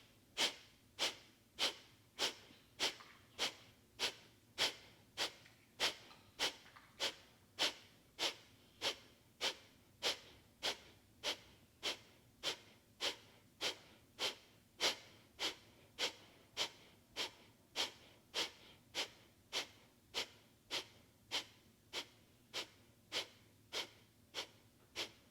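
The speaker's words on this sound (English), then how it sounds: "Sit up nice and tall, deep inhale, and breath of fire." Breath of fire yoga breathing, dozens of quick forceful nasal exhales in a fast steady rhythm, about two per second, close and alone.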